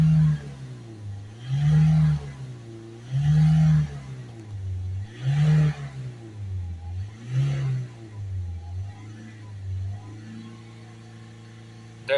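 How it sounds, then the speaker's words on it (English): A Ford Transit Custom 2.2 engine, running in limited-power mode, revs repeatedly in about five separate surges. Each rise falls back to a steady idle, and the engine is heard close up with no talking. "Now we'll start the engine up, give it a rev, and we should see some smoke coming out if it's successful."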